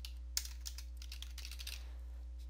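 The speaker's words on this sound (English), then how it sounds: "And now you want to type in" Quick, light typing on a computer keyboard, a short run of soft clicking keystrokes over a steady low electrical hum, no voices.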